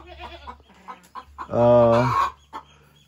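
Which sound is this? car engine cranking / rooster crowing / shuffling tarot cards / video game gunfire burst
rooster crowing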